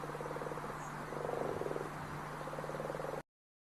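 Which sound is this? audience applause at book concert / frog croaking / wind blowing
frog croaking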